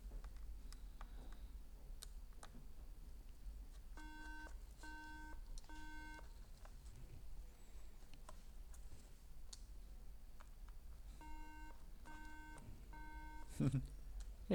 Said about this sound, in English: Everyone loves the sound of a 3 beep,